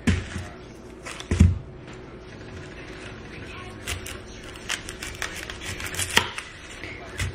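A knife chops ingredients for kimchi fried rice on a cutting board, with a few sharp close knocks early on, then lighter, irregular taps scattered through the rest.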